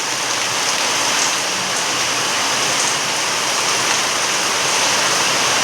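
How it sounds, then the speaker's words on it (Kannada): Heavy rain pouring down steadily at a home in a downpour, a dense, loud, continuous hiss with no voices. "ಜೋರು ವರ್ಷ ಬರೋನುಂಡು"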